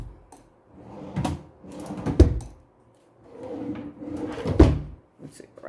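A dresser drawer in a hotel suite slides open and shut twice, each a rolling scrape ending in a sharp knock, close and clear with quiet gaps between.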